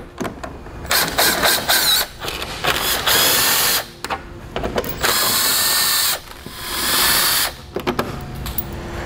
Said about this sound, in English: we'll remove these two 10mm bolts here and here on both sides of the bumper